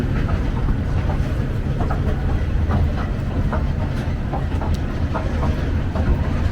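A New York subway train, the Uptown 4 and 5, rumbles steadily through a station built in 1908, with loud continuous low roar, wheel clatter and hiss throughout.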